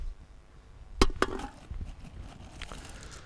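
Metal waste packaging handled while being sorted into recycling fractions: two sharp, close clanks in quick succession, then quieter scraping and rattling.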